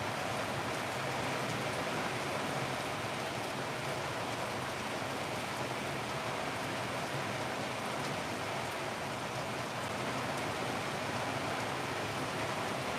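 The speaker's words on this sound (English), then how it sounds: "Let me know if the rain gets so loud that you can't hear me." Heavy rain pours steadily over a Chinese cemetery in Malaysia or Singapore, a dense, continuous hiss filling the whole stretch without a break and no voices.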